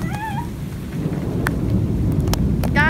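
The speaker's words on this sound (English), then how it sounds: "It's raining so hard." Heavy rain pours down in a thunderstorm, a dense steady hiss with scattered louder drops and splashes, close and loud throughout.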